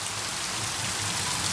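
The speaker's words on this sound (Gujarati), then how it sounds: "આ લગભગ છેલ્લી અડધી કલાકથી આવો ને આવો વરસે જો" Heavy rain pouring steadily on a farm, a dense continuous hiss of drops on surfaces, loud and close with no distinct thunder clap or voices.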